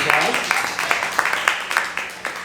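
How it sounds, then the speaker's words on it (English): Audience applause welcoming a presenter to the stage at a talk, a steady run of claps with regular sharp accents, moderately near, with a faint voice in the background. "Give him a big round of applause."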